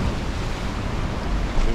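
Rough sea off Bimini in the Bahamas, seen from a cruise ship, gives a steady, loud wash of surf and wind noise filling the short stretch without a break and without voices.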